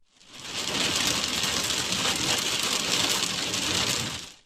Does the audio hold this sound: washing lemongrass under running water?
no